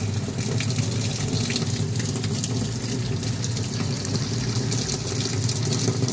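Washing machine drum filling with water, a steady continuous rush and splash of water pouring in, loud and close with no voices.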